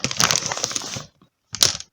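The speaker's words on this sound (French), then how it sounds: "Ah bah j'ai fait tomber le bouton" A small button dropped onto a hard surface during a sewing-supply haul gives a short clattering rattle, then a second brief tap after a pause, close and fairly clear.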